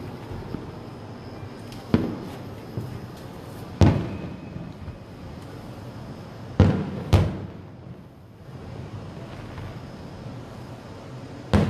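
Fireworks bursting over a downtown area at night, sharp booms landing every few seconds over a steady crackling, hissing background, with the loudest reports fairly close.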